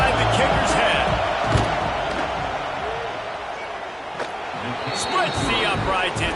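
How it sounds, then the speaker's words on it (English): A packed college football stadium crowd roars steadily throughout, a dense sustained wall of cheering and noise aimed at unsettling a field goal kicker, with occasional louder swells and sharp bursts rising from the din. "This crowd trying to do its part to get inside the kicker's head."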